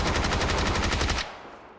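A rapid burst of automatic gunfire from PUBG, about a dozen evenly spaced shots, loud and close, then abruptly stopping.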